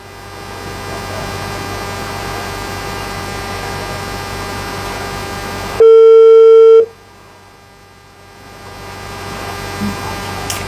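A steady telephone tone sounds while a number is dialed, a loud sustained beep lasting about a second after a low hum, then quieter line noise follows.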